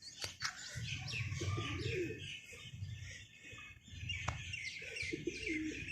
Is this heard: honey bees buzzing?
no